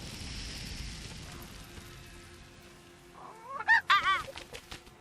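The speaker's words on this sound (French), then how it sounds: "Oh le poulet, je sais pas, en plus il voulait attaquer l'autre." A chicken in the Donjon de Naheulbeuk video game gives a short series of loud squawking clucks near the end, over a soft ambient game background.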